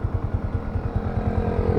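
A Honda TMX Alpha motorcycle with a stock engine, stock sprocket and stock tires idles up close, its single-cylinder exhaust thumping in a fast, even, steady rhythm.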